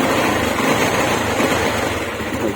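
A Yamaha Mio Sporty scooter engine, thought to be misfiring, runs close by with a steady, rough, broadband roar.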